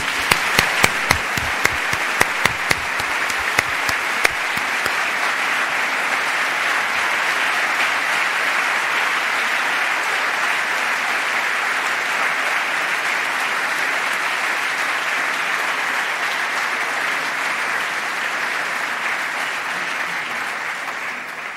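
A graduation ceremony crowd applauds in a sustained, even wash of clapping, with a few sharp individual claps standing out at the start before the sound settles into steady applause.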